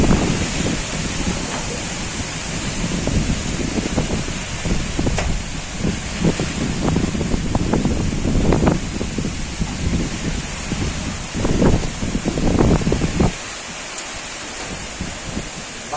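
Strong wind from Cyclone Remal roars and gusts steadily outdoors, with rustling and buffeting bursts throughout before easing near the end.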